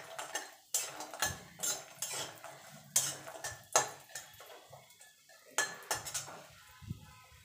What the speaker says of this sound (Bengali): বড়িটা ভেজে তুলে নেবো লাল লাল করে।